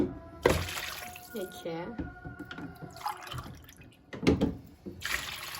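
Water poured from a glass into a pot of stuffed dolma, a few close splashing pours separated by pauses, with a voice speaking softly under and between them.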